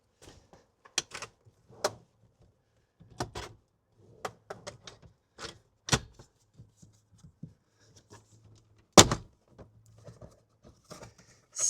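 Plastic trim clips on a Fisker Ocean cabin panel popping free: a scattered series of sharp, close snaps and clicks with light handling rustle between them, over a faint low hum.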